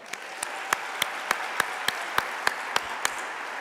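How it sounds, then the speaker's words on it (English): An audience at the Nelson Mandela Annual Lecture applauds to welcome the chair of the Nelson Mandela Foundation Board of Trustees, a steady wash of distant clapping crossed by regular sharper claps. "Please give a warm round of applause and welcome to the chair of the Nelson Mandela Foundation Board of Trustees"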